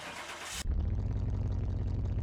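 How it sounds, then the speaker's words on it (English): A Ferrari 458 Speciale fitted with an AXK engine in Car Mechanic Simulator cranks with a brief starter whine, then catches and settles into a loud, steady, rumbling idle. "let's get this one started, see what the Ferrari sounds like with the AXK engine."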